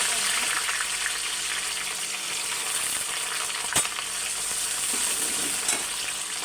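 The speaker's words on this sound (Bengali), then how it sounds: "পেঁয়াজটা ভালোভাবে ভেজে নেব" Onions sizzle steadily in a hot pan of oil alongside potatoes, soybean chunks, bay leaves and garam masala while a chicken kofta curry is cooked, making a continuous close frying hiss with a single sharp clatter midway.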